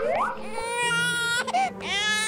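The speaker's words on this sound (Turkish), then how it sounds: "Niye ağlıyorsun?" A Baby Born toy doll cries nearby in a loud, continuous wailing sob with rising and falling pitch, a brief break in the middle, then more crying.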